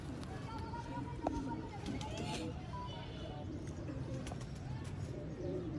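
Sialkoti pigeons coo softly over steady background noise, with occasional faint chirps and a voice in the background.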